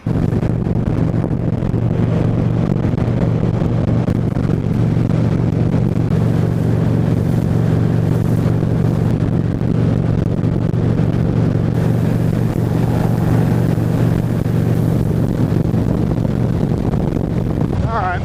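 Steady low motorcycle engine rumble holds throughout, a continuous idling drone at close range with no clear talk over it.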